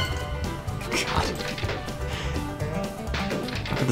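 An object-breaking sound effect in the Oregon Trail video game, a dense crashing, smashing burst that keeps going for several seconds over game background noise.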